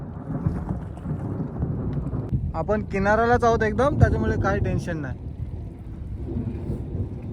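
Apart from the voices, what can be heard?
thunder during a storm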